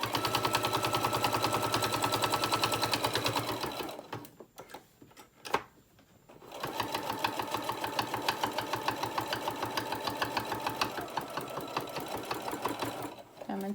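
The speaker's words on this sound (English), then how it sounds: "I'm hearing a clanking in my machine. I think it's time for me to change the needle." A sewing machine clanks in a steady rapid rhythm from a dulling needle that needs changing, loud and close while making bowl koozies, pausing briefly for a couple of seconds midway before running again.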